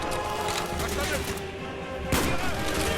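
Gunfire in the PC shooter Call of Duty: Black Ops crackles in dense, continuous bursts with a heavier shot near the end, while in-game soldiers shout callouts over the fighting.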